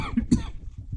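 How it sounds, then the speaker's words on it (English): A single person coughs a couple of times during a shock absorber change on a 2007 Mitsubishi Lancer, short close throaty bursts in a quiet space. "Sorry about the coughing."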